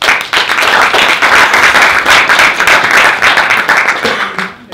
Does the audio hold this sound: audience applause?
yes